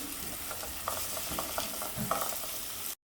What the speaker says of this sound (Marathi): आलं लसूण पेस्ट देखील मी आता वास जाईपर्यंत परतून घेते चांगली